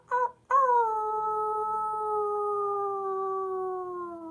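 A person imitates a wolf howl with their voice: a short yelp, then one long, steady, tonal howl that slowly falls in pitch and holds clearly and closely to the end.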